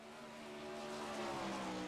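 Race car, the 044, on a qualifying lap around a dirt track, its engine note rising as it accelerates, a steady fairly distant roar with no talk.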